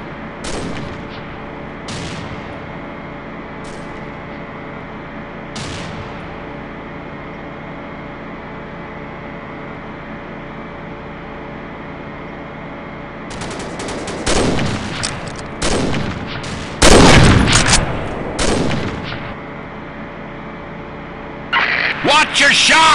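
Sniper gunshots in the video game Combat Arms: a few sharp broadband cracks early, then a cluster of louder shots and blasts near the end, all over a steady game-engine hum, with voices faintly present.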